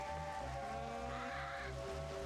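Repeated cawing calls from a crow-like bird in a video game, a few harsh cries cutting over a steady droning musical background, moderately close and fairly quiet.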